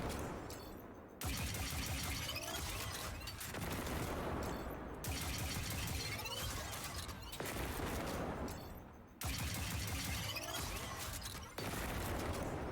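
A heavy weapon fires in a video game, sustained bursts of loud, dense gunfire in three long volleys separated by brief pauses, with booming impacts.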